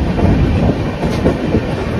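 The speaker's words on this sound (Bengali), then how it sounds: "আসানগড়ির এখানে এই যে ট্রেনটার সঙ্গে আমাদের মিট হলো" The Steel Express train rumbles past close by near Asangarhi in East Singhbhum, Jharkhand, heavy wheels clacking on the rails in a steady loud roar for a couple of seconds.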